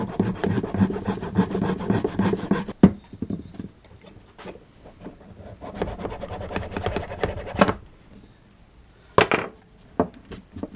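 A small hand saw cuts off leftover wood while shaping a wooden mallet, its rasping back-and-forth strokes close and rhythmic, broken by a few short pauses.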